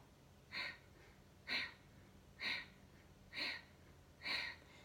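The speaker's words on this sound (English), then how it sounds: "exhale out and pull the belly in, and then naturally it comes back in as you inhale" Five slow, even breaths during a yoga practice, each a soft airy rush about a second apart, close to the microphone over a quiet room.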